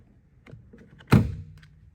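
A plastic cover around the door handle is pried off a Ram truck door, giving one sharp thunking pop near the mic after a few faint handling taps, then quiet.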